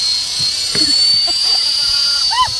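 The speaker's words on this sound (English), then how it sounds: "Hello, helicopter!" A high, steady rotor whine from a remote-controlled model helicopter fills the clip continuously, with faint voices talking briefly underneath.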